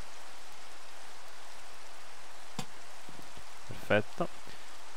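Steady soft rain hisses throughout in the video game Minecraft, with a few brief clicks and a voice speaking Italian over it.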